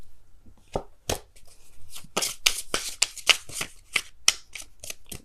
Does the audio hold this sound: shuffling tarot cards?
yes